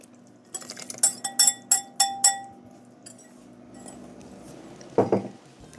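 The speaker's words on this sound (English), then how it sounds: "I'm going to use my spatula just to mix it in" A spatula works wet and dry bran muffin ingredients together in a mixing bowl, giving a quick run of bright clinks against the bowl, then quieter scraping and one last knock.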